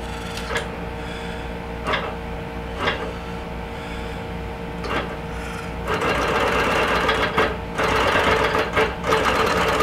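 A sewing machine runs a heavy basting stitch through a quilt with soluble thread, giving a steady close mechanical whir that grows louder and busier about halfway through.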